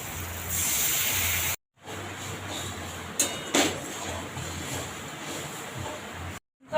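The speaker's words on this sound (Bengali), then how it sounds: "এরপর অল্প পরিমাণ একটু জল দিয়ে দিলাম" Water splashes into a hot pan of chili powder, turmeric and chopped tomato, a loud hissing sizzle that breaks off, then resumes as a steady crackling simmer close by with brief sharp bursts.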